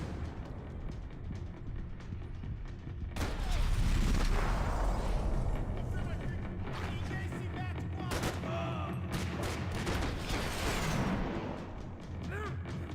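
Heavy gunfire in a video game, repeated loud shots and booming blasts layered over a dense, continuous roar, with a faint voice underneath.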